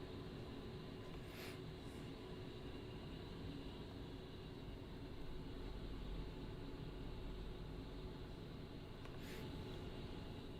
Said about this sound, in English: Hog flight taxiing.